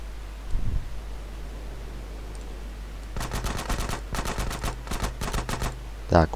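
Gunfire in GTA San Andreas Definitive Edition while flying: after a quiet stretch, several rapid machine-gun bursts rattle out in close succession, with a sharp louder shot near the end.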